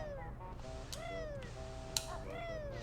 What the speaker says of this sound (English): I was actually walking to let my cat out of the room at the same time.